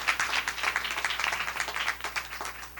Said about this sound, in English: So a round of applause for you all.